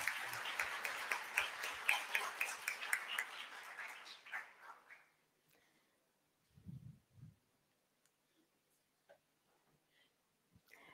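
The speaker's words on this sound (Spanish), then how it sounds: "Lo despedimos con un fuerte aplauso" Audience applause after a journalism master class, a dense round of clapping that fades out over about five seconds, followed by quiet room noise and a few brief voices.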